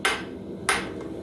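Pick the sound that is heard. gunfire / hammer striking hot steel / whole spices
hammer striking hot steel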